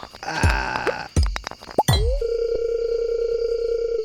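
A pickaxe strikes rock in the farming game Stardew Valley, with a few sharp, bright digital clinks and pitched blips, followed by a steady electronic hum that holds to the end.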